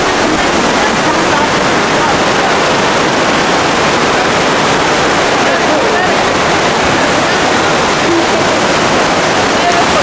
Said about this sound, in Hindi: तो जी हम पहुंच गए लोअर फॉल तो जी ये जो पीछे है ना ये है लोअर फॉल